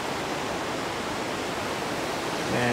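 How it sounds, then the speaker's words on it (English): Kravica waterfall in Bosnia and Herzegovina sends a dense, heavy rush of falling water, loud and continuous with no pauses or voices. "Look at the many falls, and the water pressure is"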